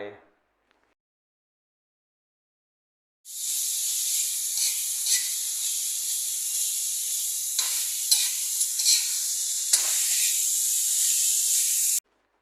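Minced pork stir-fried in a wok with pounded chili and garlic for basil pork, a bright continuous hiss and sizzle with scraping spatula strokes, close and loud, starting suddenly after a few seconds of near silence.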